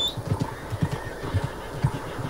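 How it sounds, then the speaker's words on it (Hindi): Thoroughbred racing horse in Red Dead Redemption 2 moving along, soft rhythmic hoofbeats with low snorting and breathy tones, moderately close, no speech over it. "थोरोबेड। ये रेसिंग घोड़ा है भाई।"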